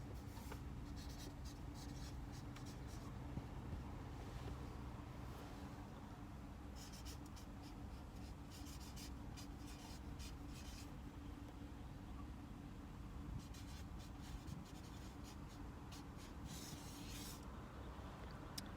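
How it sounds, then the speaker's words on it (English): A pen scratches across paper in quiet, intermittent strokes and short bursts, faint and close, with no talking. "I'm just gonna write it"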